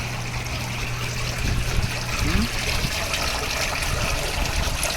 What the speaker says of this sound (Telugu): వాటర్ కారుతూ.